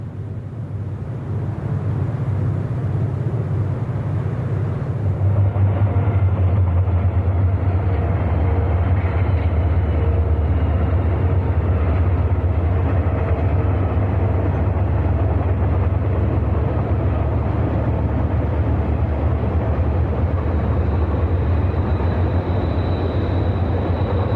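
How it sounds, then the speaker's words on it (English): Conrail freight train TV11 rounding a curve westbound on Track 2 along the Conemaugh River in the Conemaugh Gorge: a loud, steady low rumble of locomotives and rolling cars builds in the first few seconds, then holds unbroken throughout. "Train TV11 heads around a curve and up along the Conemaugh River as it makes its way west on Track 2"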